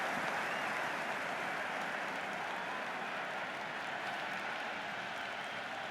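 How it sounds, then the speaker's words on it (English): A stadium crowd in the Cricket 26 video game at a roof stadium during an England vs Australia T10 match, cheering and roaring as a steady, dense wash of noise with no breaks. "It's evident and ever so audible that the crowd is at near bursting point at today's play."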